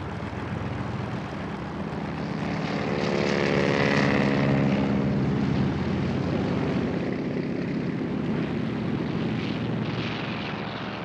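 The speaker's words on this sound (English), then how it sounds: "the Japanese fast attack force of 183 aircraft began taking off" WWII Japanese attack aircraft taking off north of Oahu on December 7th: a loud, droning propeller-engine roar that swells and then holds steady as the planes climb away.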